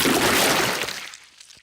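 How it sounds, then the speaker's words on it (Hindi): A cartoon burst of dirty water thrown over a car: one loud, broad splash right at the start that fades away over about a second, with no voices. "पेपा ने गंदा पानी पूरी गाड़ी के ऊपर फेंक दिया।"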